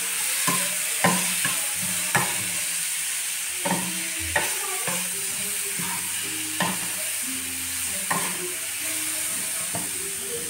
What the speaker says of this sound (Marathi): कमी गॅस करून आणि परतून घ्यायची.